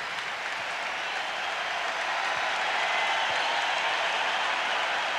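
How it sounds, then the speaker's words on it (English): A basketball arena crowd at an Iowa Hawkeyes vs Kansas Jayhawks game applauds and cheers after a made free throw, a dense, steady wash of clapping and crowd noise that runs unbroken and grows slightly fuller toward the end. "the crowd reacting to the fact that they made a free throw"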